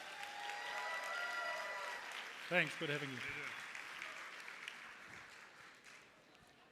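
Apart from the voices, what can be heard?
audience applause for Rio Ferdinand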